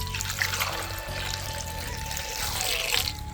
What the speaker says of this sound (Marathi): आता या बघा पाणी टाकी ते मस्तपैकी धुवून घेते